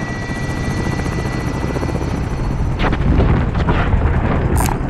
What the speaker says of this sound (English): There's a helicopter here.